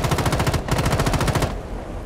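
Rapid automatic gunfire in the video game Rainbow Six Siege, two loud close bursts of evenly spaced shots separated by a short gap, then fading into quieter ambience.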